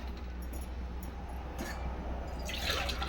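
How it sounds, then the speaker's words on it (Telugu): Water pours steadily into a pot of rice for a few seconds, a soft continuous splashing with a brighter gush near the end. "ఇప్పుడైతే వాటర్ వేస్తున్నాను"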